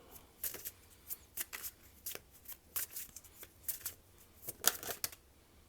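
Tarot cards are shuffled close up in quick repeated riffles and slaps, a soft papery rhythm of short bursts with no talking.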